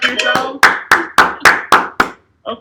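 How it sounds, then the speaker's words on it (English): At a comedy show, seven loud, sharp claps ring out in a steady rhythm, close and clear, before a short pause and a faint final burst. "Clap it up for yourselves."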